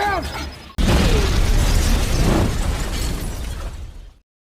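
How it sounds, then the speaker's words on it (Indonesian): A sudden loud blast erupts and rolls on as a dense, roaring rumble with debris-like crackle for several seconds before cutting off. "Seketika ledakan besar terjadi."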